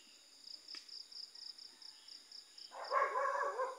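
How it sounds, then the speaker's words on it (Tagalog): Dog barking on a mountain trail, a brief rough burst near the end rising over steady, rhythmic cricket chirping in the background. "Ayan, aso."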